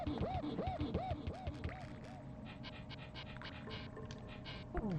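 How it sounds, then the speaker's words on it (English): Rhinoceros animal buddy in the Donkey Kong Country video game panting like a dog, a quick series of breathy, rhythmic pants up front, followed by softer scratchy game sounds. "See, he's panting at you,"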